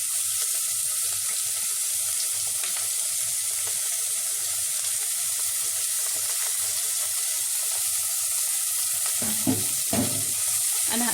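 Grated carrot, bell peppers and peas fry in ghee in a pan, a steady close sizzle throughout, with a few stirring scrapes near the end.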